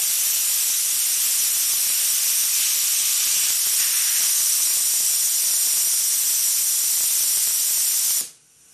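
A homemade safety valve on a steam boiler blows off with a loud, steady hiss of escaping steam for several seconds before it snaps shut and the sound cuts off abruptly.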